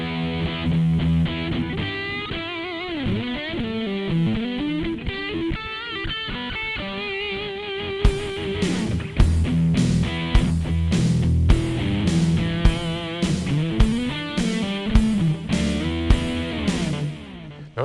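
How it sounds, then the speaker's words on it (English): Electric guitar played through a Mesa Boogie Dual Rectifier amp model with heavy, full distortion, first sustained riffing and then rhythmic chugging chords with a steady beat and tempo-synced delay behind it. "Here's the Boogie Dual Rectifier, which is a very full-sounding distortion sound."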